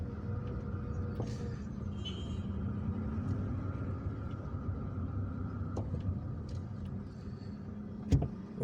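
Car driving through the streets of Algiers toward the central post office, a steady low engine and road rumble from inside the cabin, with a few faint knocks and a sharp thump near the end.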